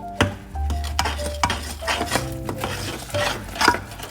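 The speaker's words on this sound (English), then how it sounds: "2 spoons of butter. And I'm gonna stir that in." Butter being stirred into a holiday candy mixture in a pot, with a spoon scraping and clinking against the pan in steady, fairly close strokes, alone without talk.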